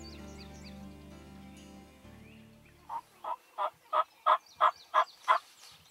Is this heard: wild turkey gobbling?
yes